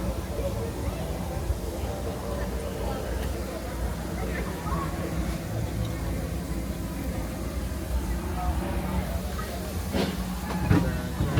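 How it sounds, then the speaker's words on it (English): Disneyland Railroad train rolling along its tracks, a steady broadband rumble and hiss with faint rail clatter throughout, a brief louder knock near the end, heard close from aboard a passenger car. "Thanks for joining us on the Disneyland Railroad"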